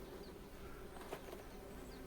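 Steady, low insect buzzing from bees hovering close by around African blue basil flowers, a continuous drone with no voices.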